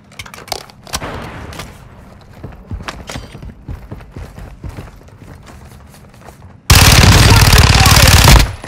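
Gunfire in a team-based multiplayer shooter video game: a few scattered shots, then a dense, loud burst of rapid automatic fire near the end, with voices talking over the action.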